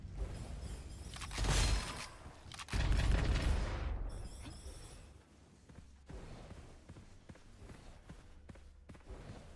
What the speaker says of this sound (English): There were so many explosions from those guys.